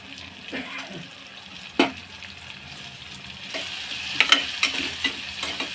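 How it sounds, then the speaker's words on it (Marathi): Masala is stirred and mixed in a pan for varan, giving an ongoing sizzle with repeated scraping and knocking of the spoon, including a sharp clack early on and a cluster of strikes near the end. "मसाला व्यवस्थित मिक्स करून घ्यायचा"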